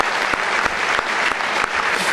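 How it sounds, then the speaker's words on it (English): Applause for Senator Sweeney during Woodbridge Township's State of the Township address, a dense, steady round of clapping from a large audience with no pauses. "please give him a round of applause anyway"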